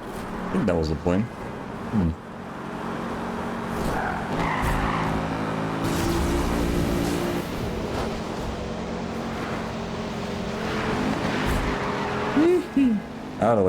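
Racing cars in Need for Speed: Rivals roar and skid, with sustained engine drone, tire squeals and crash hits, while a player talks over the game sound.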